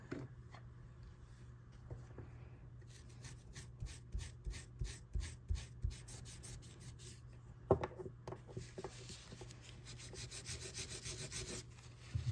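Quick back-and-forth scrubbing of a metal nail art stamping plate during Halloween glow-in-the-dark nail art, a run of short rhythmic rubbing strokes near and fairly quiet, with a low steady hum underneath.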